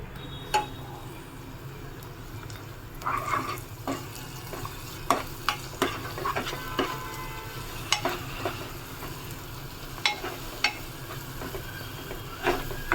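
Ground masala paste fries with softened onions in a pan for chicken curry, a constant low sizzle broken by repeated sharp clatters and scrapes of a spoon stirring, close up with no talk.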